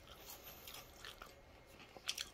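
Someone bites and chews crunchy food from an air fryer toaster oven, faint close mouth crunches with a couple of sharper bites near the end, no talking.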